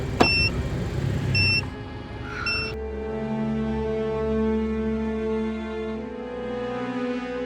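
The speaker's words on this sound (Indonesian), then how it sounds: "Itu mobil perwira Inggris." A British officer's car, in a Battle of Surabaya setting, heard as a steady engine idle and rumble with a few short electronic beeps and a click early on, then a continuous low motor hum.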